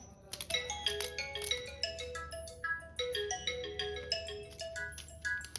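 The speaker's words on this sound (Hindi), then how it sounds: "मेरा फ़ोन आया जा रहा है, कभी मेरे पेरेंट्स फ़ोन कर रहे हैं, कभी मेरे हस्बैंड फ़ोन कर रहे हैं" A mobile phone rings with a bright, repeating melodic ringtone, fairly loud and steady for several seconds, in a home kitchen during onion chopping for a Ramadan iftar meal.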